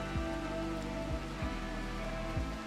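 Steady rain in RimWorld, a dense continuous hiss of drops falling on surfaces with no talking, holding an even level throughout.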